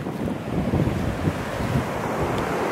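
Ocean waves wash onto a Bermuda beach in a steady, rushing surf wash mixed with gusty wind noise on the microphone, close and fairly loud, with no talk.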